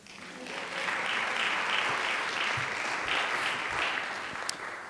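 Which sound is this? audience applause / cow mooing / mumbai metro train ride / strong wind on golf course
audience applause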